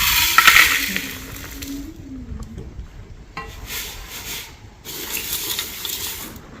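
Running water splashes and trickles over a pot being scrubbed, with rubbing and clinking sounds, steady and close, and water gushing again near the end.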